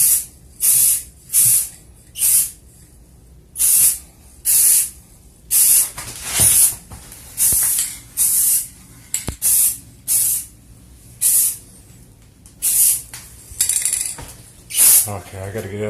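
Aerosol spray paint hisses in short, evenly spaced bursts as thin coats go onto a 3D printed Thor's hammer, Mjolnir, each puff loud and close with brief quiet gaps between.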